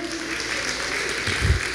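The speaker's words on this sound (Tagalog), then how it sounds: "Palapakan po natin ang Panginoon." A church congregation claps for the Lord in a dense, steady wash of applause, filling the room without voices on top.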